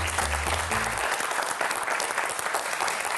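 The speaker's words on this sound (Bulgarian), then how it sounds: "Аплодисменти за Петър." A studio audience on a Bulgarian TV quiz show applauds a contestant, a dense, even wash of clapping that swells after a brief spoken announcement and carries on steadily.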